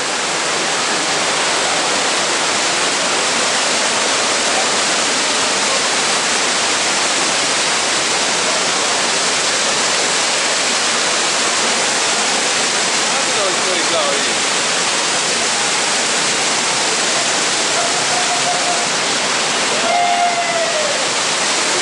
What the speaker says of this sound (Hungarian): Látod, hogy folyik a víz oda le?